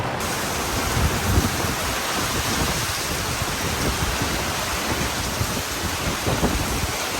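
Steady rain pours down in Tampa, Florida, in a continuous hiss, with low rumbling underneath and no voices.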